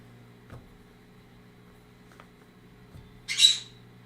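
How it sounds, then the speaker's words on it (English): A single loud bird squawk bursts out near the end, brief and sharp, after a few soft knocks in an otherwise quiet indoor room. "Did you hear those loud birds, Beelzebub?"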